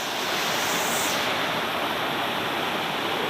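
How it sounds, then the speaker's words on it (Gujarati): Rushing water pours down a waterfall, a loud steady broadband roar heard close up and alone, with no voices over it. "કદાચ પાણીનો અવાજ બહુ આવે મારો અવાજ નહીં આવે"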